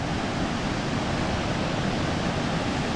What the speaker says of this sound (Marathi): पाण्याला खूप फ्लो आहे खूप खूप फ्लो आहे